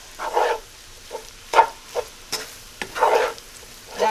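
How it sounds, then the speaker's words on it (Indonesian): Fried rice being stirred in a pan, with several short scraping and sizzling bursts that come and go in an uneven rhythm, heard close up without any talk. "aduk rata"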